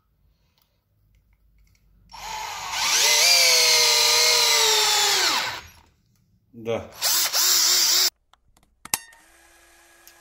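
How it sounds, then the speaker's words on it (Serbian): A Parkside PBSA 12 D4 cordless drill bores into a wooden board, one loud steady whirring run of about three seconds that winds down, then shorter bursts and clicks, with a brief spoken word. "Da vidimo kako buši u drvo."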